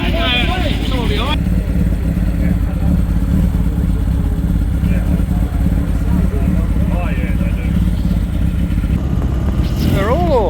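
Several motorcycles ride off as a group, their engines a loud, constant roar that fills the scene close by, with voices talking over the noise.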